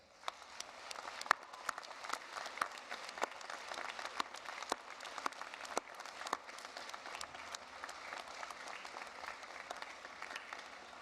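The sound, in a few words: graduation audience applause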